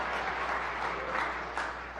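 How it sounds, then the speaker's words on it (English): Audience applause during a governor's State of the State address in a legislative chamber, a steady wash of clapping from a section of the crowd that holds at an even level for two seconds with no speech over it. "some claps over here."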